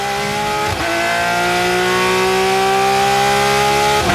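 Onboard Porsche Supercup race car engine at Bahrain, a loud steady high-revving whine holding near one pitch, with two quick gear-shift dips breaking the drone.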